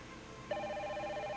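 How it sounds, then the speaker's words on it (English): A telephone bell rings in an indoor scene, a steady repeating electronic trill that starts abruptly partway through and continues at moderate loudness over a low background hum, with no talking. "Sir, the phone is ringing."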